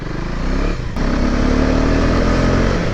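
A motorcycle engine runs loud and close at high revs in third gear with a steady, rough drone and a brief dip before the revs pick back up on a ride toward Pune.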